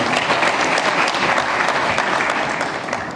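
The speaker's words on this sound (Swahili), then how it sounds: "kumpigia makofi na salamu zimfikie" Loud, dense applause from an audience at a formal public event, a continuous close wash of clapping that fades slightly at the end.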